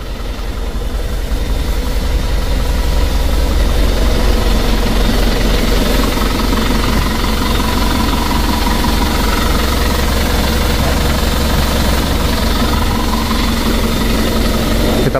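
An Isuzu Traga engine idles steadily on a cool morning while warming up, with a loud, continuous rumble and a knocking diesel-like throb close to the microphone, with no talk.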